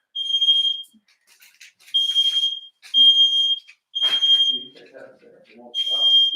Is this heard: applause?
no